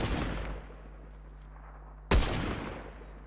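A sniper rifle in the Fortnite video game fires one loud, sharp gunshot whose echo trails off, following the tail of an earlier blast fading out.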